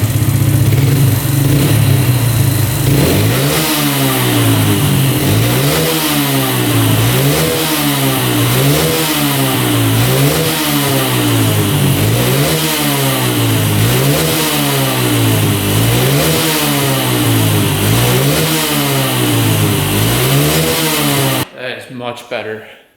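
A quad ATV engine revs repeatedly as the throttle is blipped, producing a steady rhythmic rise and fall of the engine note about once per second. It is loud and close, then cuts off sharply near the end.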